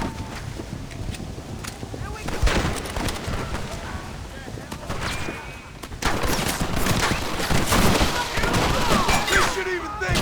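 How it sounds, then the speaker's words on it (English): A Gatling gun fires in a video game, with rapid bursts of gunfire and shots running throughout under loud shouting voices and wind-like ambience. "Marston, what about the Gatling gun?"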